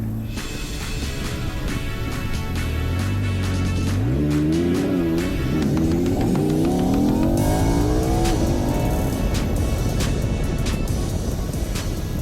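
A new white Lamborghini-powered Audi accelerating hard, its engine note climbing through rising revs with a gear change midway, loud and close throughout.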